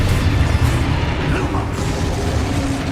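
Spell explosions burst in a Hogwarts Legacy duel, heard as a loud, continuous churn of booms, pops and rumbling blasts that stays dense from start to finish, with no voices.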